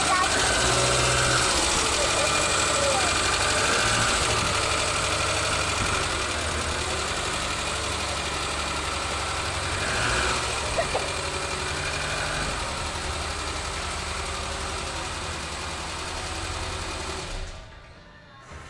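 VW Golf 2 engine idling nearby, a steady mechanical drone with a light rattly whir that runs unbroken for most of the stretch before dropping away near the end.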